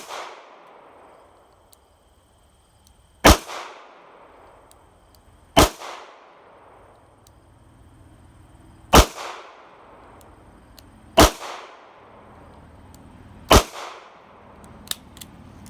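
Five sharp shots from a Ruger LCR revolver firing .22 WMR rounds at an outdoor range, each crack spaced a few seconds apart with faint ringing decay and quiet gaps between.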